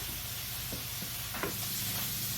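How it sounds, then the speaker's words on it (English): Steady, close sizzling and crackling of bacon frying in a pan, with a few soft scraping stirs. "You can hear the bacon's frying up."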